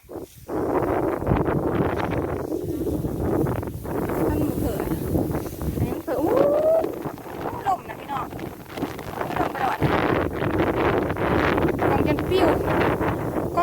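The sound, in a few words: wind blowing into microphone outdoors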